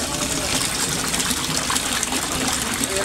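A Resun aerator pump for koi fish bubbles and gushes water in a steady, loud, continuous wash.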